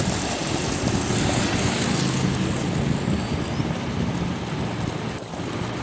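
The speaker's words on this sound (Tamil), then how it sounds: "இப்போ பார்த்திங்கன்னா தண்ணி எவ்வளோ ப்ரெஷர் வந்துட்டுருக்குன்னு பாருங்கள்" Water from a 5 HP solar-powered pump gushes out under pressure, a steady, loud broadband rush that holds unbroken throughout with no voices.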